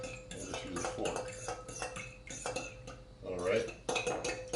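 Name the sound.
whisking eggs and milk in a bowl with a fork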